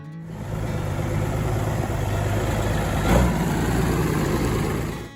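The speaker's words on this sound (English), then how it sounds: "That is the sound of the Allis-Chalmers D19" An Allis-Chalmers D19 tractor engine idles steadily at close range with a low, even rumble, swelling slightly once midway, and no voices over it.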